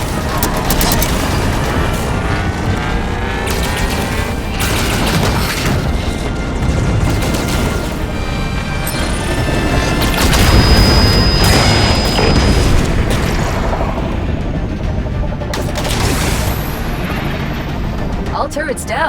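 Heavy gunfire and explosions while turrets are shot down in Halo 5: Guardians, a dense, loud and continuous barrage of rapid shots and booms with a voice briefly talking over it.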